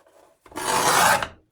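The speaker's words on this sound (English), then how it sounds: "this cutter that cuts all crinkly" Crinkle-cutter scissors slice through paper in one close, loud, raspy stroke lasting under a second, with near silence before and after.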